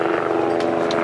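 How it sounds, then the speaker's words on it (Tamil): A helicopter flies overhead at a mountain camp on the Amarnath pilgrimage route in Kashmir, a steady loud rotor and engine drone filling the whole moment without any voices. "helicopter park"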